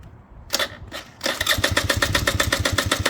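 A 2017 two-stroke motorcycle engine tries to start: two short cranking bursts, then it catches into a rapid, close, buzzing idle with a steady pulse.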